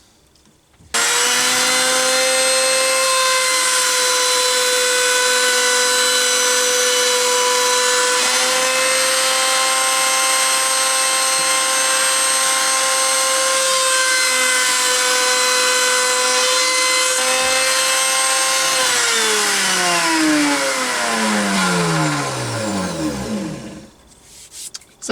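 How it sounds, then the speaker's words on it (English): Router on a mini router table rounding over the edge of an MDF scrap: a loud, close, steady high-pitched whine while cutting, then the motor switching off and pitch sliding down as it spins to a stop. "I'm just going to put a round over on this scrap of MDF."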